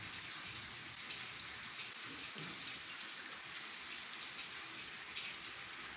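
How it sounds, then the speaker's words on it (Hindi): Steady, dense rain pouring down, a constant hiss of drops hitting surfaces, close and even throughout with no voices. "ये बारिश शुरू हो गई।"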